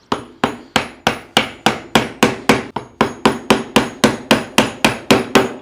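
A wooden mallet strikes a chisel, bevel side in, to carve out wood along a marked line: a steady, evenly spaced series of about twenty sharp, loud, close knocks, each decaying quickly, with no talking.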